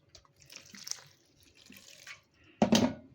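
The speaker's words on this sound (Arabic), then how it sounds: "طبعا انا ببتدي انزل المية واحدة واحدة كده واقلب" Water trickled gradually into flour for eggless, butter-free cheese pastry dough while it is stirred, giving soft intermittent splashing and mixing noise that ends in a louder close burst of wet stirring.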